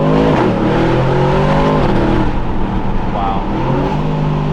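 An Aston Martin DBX 707 prototype SUV revs hard on Miami roads, its engine note climbing in rising sweeps with a drop between pulls, loud and close inside the cabin.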